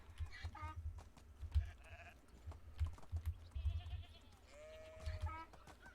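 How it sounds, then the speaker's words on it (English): A small herd of sheep bleats in the video game Medieval Dynasty, several short calls scattered over a soft clicking background, with no talking. "Getting a decent little herd of sheep too."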